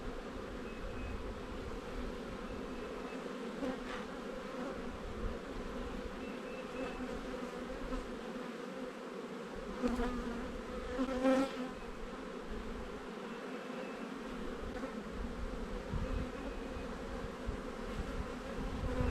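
Honey bees in an opened box hive after being fed sugar water: a steady, dense, close buzzing drone from many bees, with occasional louder swells as individual bees pass near.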